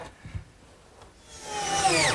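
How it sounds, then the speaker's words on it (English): Power drill driving 2-inch screws through wooden corner blocks to fix a top onto a rolling shop cabinet base, starting with a few faint knocks and then rising into a close, whining, steadily loudening spin. "I'm going to secure the top to the base with 4 2-inch screws through those corner blocks we put in earlier."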